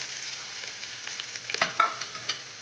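Carom seeds fry in hot oil for a tempering, a soft continuous sizzle with scattered sharp pops and crackles and a few stirring clicks, heard close and without speech.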